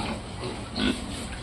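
Pigs being raised for sale on a small farm grunt softly in a low, steady rumble, with one louder grunt standing out near the middle of the short stretch.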